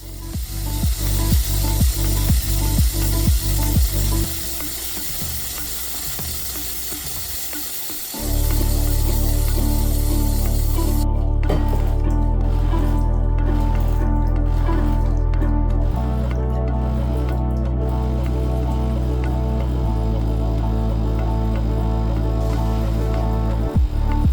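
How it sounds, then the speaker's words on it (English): An EM3801/HiBrew H21 espresso machine rinses with descaling solution, hissing and gurgling as liquid runs through it, first with rhythmic pumping pulses, then a steady loud flow and spitting steam. "The machine will start rinsing with the solution."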